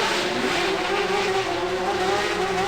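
Gang motorcycles or cars gun their engines in a visual novel scene, a dense, continuous roaring drone that stays loud and steady throughout with no pauses or voices.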